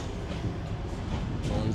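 Inside a passenger train riding to Tashkent, Uzbekistan, a steady, loud rumble and rattle of the carriage fills the air with no break.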